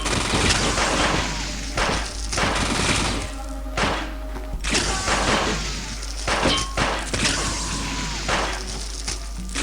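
Weapon fire in a 3D first-person shooter remake of Fallout 2, a series of loud, sharp shot bursts spaced by short gaps with crashing impacts and echoing tails.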